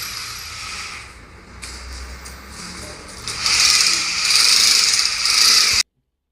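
A power drill boring into a wall to mount a decorative wall light, a whining motor that rises into a louder, harsher grind for a few seconds before cutting off abruptly.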